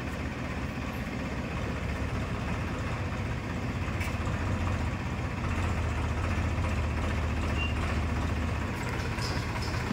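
A tractor engine idles steadily at a village home, a continuous low rumble that stays even in level for the whole stretch with no voices.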